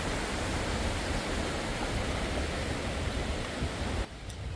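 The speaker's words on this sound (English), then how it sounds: "crossing over the Nolichucky River" The Nolichucky River, crossed on the Appalachian Trail, gives a loud, steady, broadband rush of flowing water that fills the whole stretch and drops off sharply near the end, with no voices.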